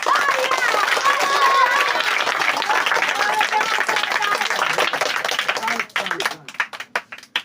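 A crowd applauds steadily for several seconds at a Mahatma Gandhi birthday talk, the clapping thinning into scattered claps before it stops.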